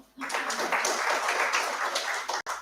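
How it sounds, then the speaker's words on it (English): Audience applause at the launch of an agribusiness development centre's strategic plan, a dense steady wash of many hands clapping that holds evenly for over two seconds, then breaks off briefly at the end. "That's a clap moment."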